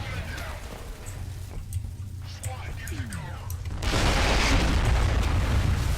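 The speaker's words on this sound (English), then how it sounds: "that's actually a pretty neat looking explosion there." Explosion in the video game F.E.A.R.: a deep, rumbling blast swells into a sustained roar of debris and noise, with someone talking over the game sounds beforehand.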